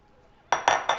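A metal utensil scrapes and clanks against a pan while a chicken-based pizza crust mixture is plopped down and spread, three sharp, close bursts after a brief quiet start.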